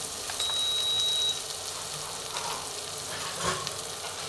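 Onion added to hot oil with green chillies in a pan, giving a steady close sizzle with light crackle throughout and a short tonal beep near the start.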